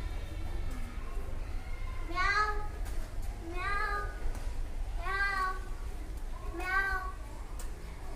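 A voice imitates a cat, giving four drawn-out meows at a steady pace over a low background hum.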